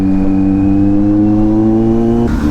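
A big bike motorcycle engine revs steadily on a busy stretch of Molino Boulevard, a loud close drone with strong harmonic tones that holds for about two seconds before a brief shift near the end.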